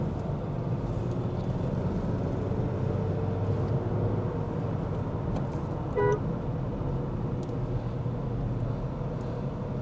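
A Renault Duster's 163 hp turbo petrol engine accelerates hard in a steady, sustained drone heard from inside the car, with a single brief horn toot partway through and no talking.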